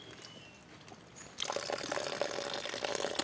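Cold spring water pours out from between rocks near Pangil Falls in Laguna, starting as a faint trickle and then swelling into a steady, close splashing stream that is fairly quiet overall.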